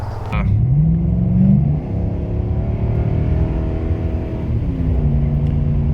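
Nissan Titan pickup fitted with an Airaid cold air intake, its engine revving up in a loud, close rising roar that settles into a steady deep rumble before climbing again.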